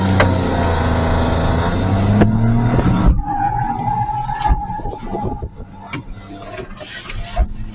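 A car revs and accelerates hard off the start of a slalom run at a car club training day, a loud engine roar that rises in pitch before dropping into rougher, uneven engine and tyre noise.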